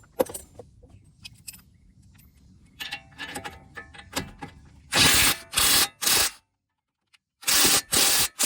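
An impact wrench spins a 21mm nut on a 2009-2014 Nissan Maxima passenger-side CV axle in loud, buzzing bursts, preceded by light metallic clinks and rattles of tools being handled.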